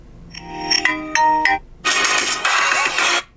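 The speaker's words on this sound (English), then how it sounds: "Let's go back to phone ringtone." A ringtone plays on a Motorola Razr 70 phone speaker: a short run of bright melodic chime notes, a brief pause, then a louder, denser burst of tones, close and clear with no talk.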